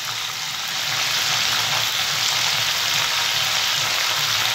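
Nigella seeds sizzle steadily in hot oil, a continuous close crackling hiss with no pauses, as a potato and watermelon-rind dish is started.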